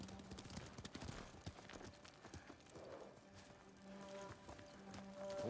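Horses in Ghost of Tsushima clop along with rapid, rhythmic hoofbeats on the ground, fairly close and steady, with faint background game ambience and no talk over them.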